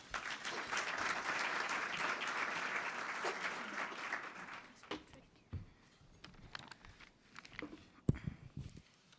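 A welcoming round of audience applause fills a conference hall at a world affairs council event, steady and dense for about five seconds before thinning into scattered claps and a few footsteps as the crowd settles.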